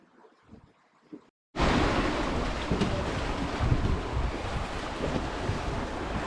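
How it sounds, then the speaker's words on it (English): Choppy Mediterranean sea swell and strong wind out on open water aboard a sailing yacht, a loud, steady roaring wash with heavy wind buffeting the microphone after a short quieter opening. "It's always a bit choppy out here, but the swell is coming in our direction"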